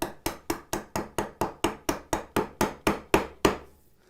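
A mallet drives a vertical chisel into wood to cut a bridle joint, with about thirteen sharp, evenly spaced strikes, roughly three per second, close and loud, the last blow ringing out into quiet.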